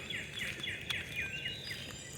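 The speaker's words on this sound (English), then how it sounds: "Look at these birds. Isn't this amazing to hear them?" Repeated high chirping birdsong, several birds calling in quick overlapping phrases against a steady outdoor hiss, fairly close and continuous.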